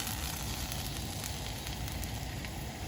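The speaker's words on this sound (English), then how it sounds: "heat the pan and add some oil. And then I'm going to toss in some garlic." Chopped garlic sizzles in hot oil in a pan with a dense, steady crackling hiss, close and continuous, with no talk.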